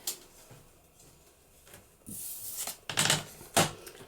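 Paper being trimmed for a craft multi-pocket embellishment, several quick sharp cutting and rustling strokes close by, with quiet handling noise before them.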